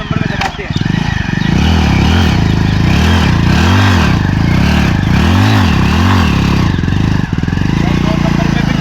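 Old motorcycle engine held in second gear under load during a power test, a steady loud throbbing chug with rhythmic rising and falling pulses, labouring but running throughout.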